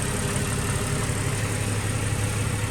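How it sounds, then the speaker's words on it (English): A Ford BF XR6 engine idling steadily with a continuous low, even rumble, heard close and alone. "Now I've just got it idling."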